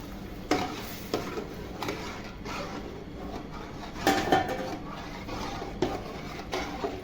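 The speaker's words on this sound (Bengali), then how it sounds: "দিয়ে একটু নেড়ে চেড়ে জাল দিয়ে নিব" Milk is stirred in a pot as it boils down for malai ice cream, with soft spoon scrapes and clinks against the metal over a steady low bubbling, plus a few sharper knocks.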